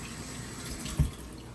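Tap water runs steadily into a sink while someone rinses off during outdoor Jamaican cooking of steamed fish with callaloo, a soft continuous hiss with one brief thud midway.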